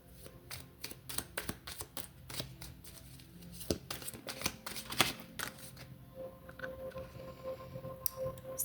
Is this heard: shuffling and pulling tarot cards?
yes